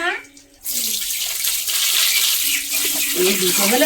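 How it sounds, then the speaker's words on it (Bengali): Ripe fallen palm fruits washed by hand under running water, a loud continuous splashing gush that starts abruptly after a short quiet moment and keeps flowing steadily, with a voice talking faintly underneath. "এইগুলো একটু ভালো করে ধুয়ে নেবে"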